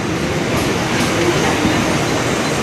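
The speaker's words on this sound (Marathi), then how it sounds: "चर्चगेट ट्रेन आली आहे, तर आता आम्ही ह्या ट्रेनने जाणार" A Mumbai local train to Churchgate, running through Dadar, with a loud steady rumble and rattle of rolling carriages heard from onboard, a continuous clatter of wheels on track with no voices.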